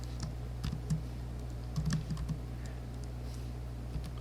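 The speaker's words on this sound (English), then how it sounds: "I start typing infinity" A computer keyboard clicks in small irregular bursts of keystrokes, close and fairly quiet, separated by short pauses under a low steady hum.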